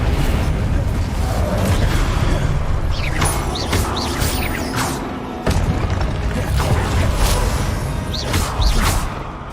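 An Incendio fire spell cast in the Hogwarts Legacy video game erupts in loud booming whooshes and crackling bursts, with mechanical clanks and thuds layered through a dense, continuous stretch of combat effects.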